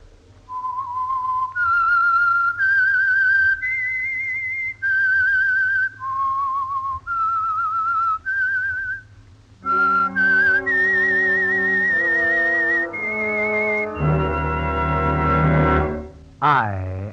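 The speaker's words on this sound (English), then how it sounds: "That whistle is your signal for the Signal Oil Program" A whistled melody signals the theme of the vintage Signal Oil radio mystery program The Whistler, clear lone notes rising and falling, then joined by a swelling orchestral passage with sustained brass-like chords ending in a loud flourish.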